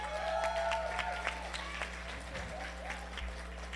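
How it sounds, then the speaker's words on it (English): Applause for children from an audience at an International Women's Day event, a steady even patter of many hands under a low hum, faint voices mixed in. "Can we give another round of applause for our kids?"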